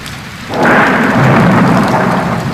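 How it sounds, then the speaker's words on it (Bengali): A sudden loud clap of thunder breaks over a steady rain during a monsoon-season storm, then a heavy, continuous downpour roars on alone with no voices. "কি জোরে বিদ্যুৎ চমকালো আচ্ছা পিঠে কোথাও পড়েছে বোধ হয়"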